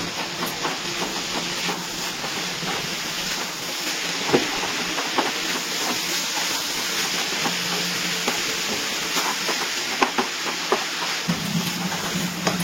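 Grated papaya and prawns sizzle in a pan over a high gas flame, giving a steady loud hiss with scattered crackles and the scrape of stirring, and no speech.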